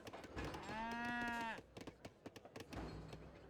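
Cattle from an Age of Empires III match moo in one long, clear low call, followed by short clicks and clatter from the game.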